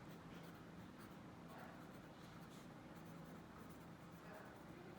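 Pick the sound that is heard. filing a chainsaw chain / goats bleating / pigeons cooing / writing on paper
writing on paper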